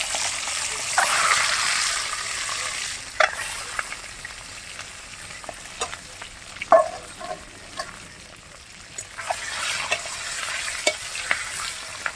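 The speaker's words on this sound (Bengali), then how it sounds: "এখন আমরা গরম তেলে ডিমগুলো দিয়ে দেবো।" Eggs sizzle and spit in hot oil, a steady frying hiss with occasional pops and utensil scrapes, no talking.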